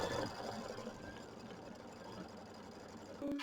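An embroidery machine stitches quilting on a fabric block, a quiet, rapid mechanical whirring hum that runs steadily, then ends with a brief clunk.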